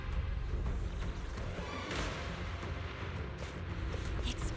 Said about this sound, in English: The explosions are becoming more frequent.